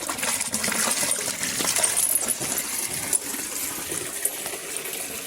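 Water gushes from an opened tap while pigeons are being watered, a steady broadband rush lasting several seconds with a few faint clinks and splashes mixed in, no voices.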